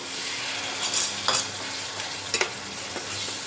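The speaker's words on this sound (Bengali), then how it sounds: "এবার সব মশলাগুলো কষিয়ে নেব। সামান্য একটু জল দিয়ে দিচ্ছি।" Ground spices sautéing in a pan with a splash of water for a cauliflower and egg korma: a steady close sizzle broken by a few sharp scraping stir strokes, with no voices.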